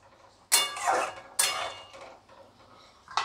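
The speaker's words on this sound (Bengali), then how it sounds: "আবার ঢাকা দিয়ে দেবো।" A metal lid clanks down onto a pot of Bhola fish jhal curry. There are two sharp rattling knocks close together, then a quieter shuffle and one more brief clink at the end, with no talking.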